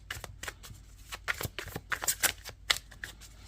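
Tarot cards are shuffled and drawn by hand, giving quick papery riffles and soft flicks in an irregular rhythm, close up and quiet, with no voice over them.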